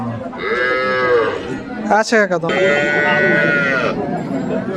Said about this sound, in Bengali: দেখতে পাচ্ছেন এখানে বাসুর সহ গরুটি